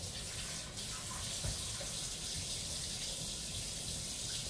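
Tap water runs steadily into a kitchen sink while a utensil lid is rinsed, a continuous close splashing hiss with a few small knocks of the lid, and no talk.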